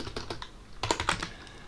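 Keys clatter on a computer keyboard while typing commands into a terminal, with a few quick taps followed by a denser burst of keystrokes, close and quiet with no voices.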